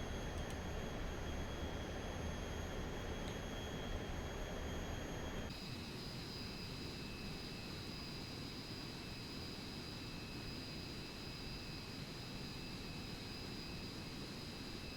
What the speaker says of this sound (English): We're like John Travolta flying our own jet.